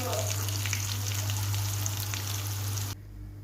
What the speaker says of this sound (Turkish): Hepsini tek tek tavada kızartıyoruz.